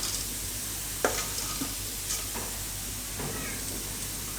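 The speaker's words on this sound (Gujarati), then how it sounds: "આમાં આપણે પૌવા નાખી દેવું બધે." Flattened rice (poha) sizzles steadily in a pan with a constant frying hiss, while a few scattered scrapes and taps of stirring break through, close and moderately loud, without talking.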